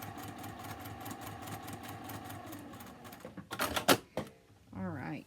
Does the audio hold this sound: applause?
no